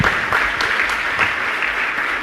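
An audience claps steadily throughout in a religious discourse hall, a dense, sustained round of applause heard close and loud, with no voices on top.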